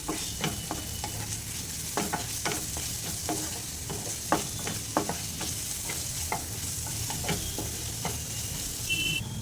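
Chili powder and ginger garlic paste being stirred in a hot pan for a fenugreek leaf and moong dal curry, a close continuous sizzle punctuated by regular scraping spatula strokes, no voices.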